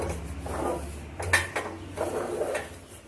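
A spoon scrapes and knocks against a pan while rava mixture with jaggery is stirred, giving steady rubbing and scraping strokes with a few sharper metallic clinks, close and moderately loud.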